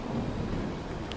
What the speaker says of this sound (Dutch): Het onweer ook nog een keer.